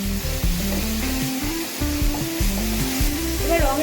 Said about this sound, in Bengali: ভালো করে কড়াইয়ে নেড়ে নেব